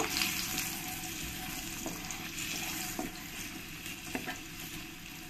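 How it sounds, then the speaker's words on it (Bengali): Potatoes fry with salt and turmeric in a pan and are stirred, producing a continuous, fairly soft sizzle with a few faint utensil scrapes and taps, and no voices. "ভালো করে একবার নেড়ে দেব"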